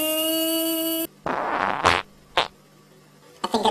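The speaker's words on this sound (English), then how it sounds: "I think I just farted." A fart sounds as a short, raspy sputter after a steady buzzing tone. A few more brief bursts follow with quiet gaps between them, close and alone.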